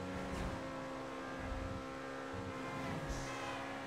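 A sports car engine in the video game GTA 5, the Obey 10F, drones at a steady high revving pitch throughout, loud and up close, with no talk over it.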